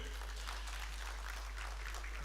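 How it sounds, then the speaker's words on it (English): Audience hand clapping welcoming a government minister at a dialogue meeting in his compound, a faint, steady wash of applause lasting a couple of seconds over a low hum. "A big hand clap for him."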